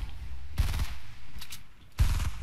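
Two short bursts of rapid gunfire in Fortnite, one after the other with a gap between, loud and punchy over quiet game ambience.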